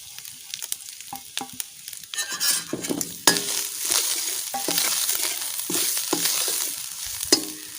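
Grated coconut frying and being stirred in a pan for Mangalorean masala avalakki, with close sizzling and scraping strokes of a spoon against the pan in irregular bursts, loudening midway as the stirring grows busier.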